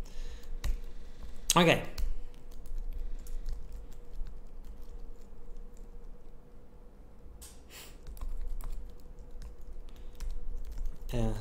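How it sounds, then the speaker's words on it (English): Typing on a computer keyboard sounds as sparse, faint key clicks scattered through a quiet room, broken by a louder burst and a short spoken word. "Yes, try to type."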